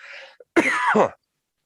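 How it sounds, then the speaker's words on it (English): A short rough noise is followed by a harsh, throaty adult human cough in two bursts, close and loud, then silence. "I'm dealing with a cough here"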